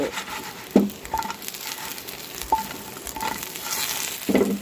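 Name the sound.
green banana frying in pan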